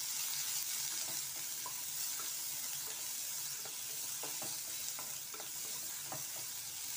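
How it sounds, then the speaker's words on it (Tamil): Chopped onions sautéing in hot oil in a kadai, a steady close sizzle and frying crackle with occasional stirring clicks, continuous and fairly loud throughout. "இதில் நம்ம நறுக்கி வச்ச இந்த 2 வெங்காயத்தை போட்டு வதக்கிக்கலாம்."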